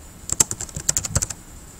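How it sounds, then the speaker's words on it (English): Quick bursts of keystrokes on a computer keyboard, a short run of close, crisp clicks in an uneven rhythm, alone without talk. "all I need to do is click and just start typing"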